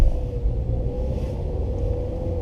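Skoda VRS with a manual gearbox being driven, a steady low engine rumble and road drone with a faint tonal hum, continuous and close, no voices.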